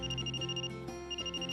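A phone rings with an incoming call, a bright repeating electronic ringtone with steady tonal pulses, close and clear, heard alone with no voices.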